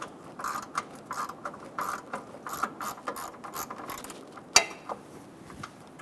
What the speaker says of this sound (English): Using a E5 socket, we're going to loosen the bolt for the impact sensor.